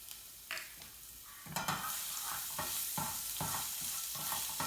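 Shallots and garlic sautéing in oil in a pan, a soft sizzle that swells louder after a moment, punctuated by repeated spoon-stirring scrapes, close and without speech.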